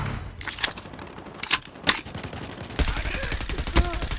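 Rapid video-game gunfire from Call of Duty, with sharp single shots early on, then dense automatic bursts and loud impacts crackling steadily through the second half, fairly close and loud.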